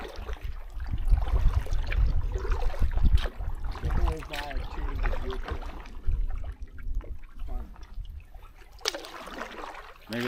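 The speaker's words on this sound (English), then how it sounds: "Oh, we got a little creek action going," A small creek trickles and gurgles past a canoe in the North Maine Woods, a soft continuous water sound close by under steady conversation from the paddlers.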